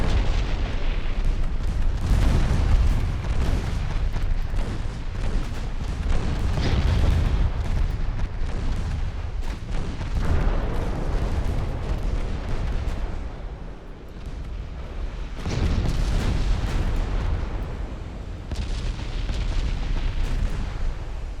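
A torpedo strikes a warship in Ultimate Admirals Dreadnoughts, bringing sustained heavy booming explosions and rumbling blasts that roll on loudly and continuously, with no talk over them.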